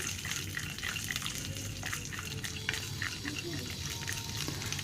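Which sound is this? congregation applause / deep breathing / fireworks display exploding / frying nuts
frying nuts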